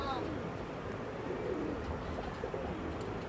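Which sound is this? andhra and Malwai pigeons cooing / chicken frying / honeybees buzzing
andhra and Malwai pigeons cooing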